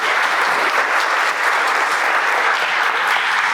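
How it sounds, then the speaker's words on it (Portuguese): An audience at a Senac talk claps steadily and loudly for several seconds, a dense, even wash of applause from a full room with no pauses. "Uma salva de palmas para o Carlos."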